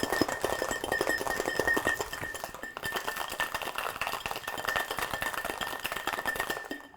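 A single rock of ice rattles hard inside a cocktail shaker tin, a rapid, continuous clattering shake that runs the whole time with a brief pause midway, loud and close.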